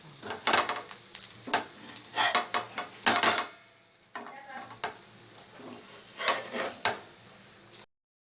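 Bread masala for a Mumbai-style dish sizzles and fries in a pan, with repeated bursts of stirring and flipping scrapes, a quieter steady sizzle between them, then an abrupt cut to silence.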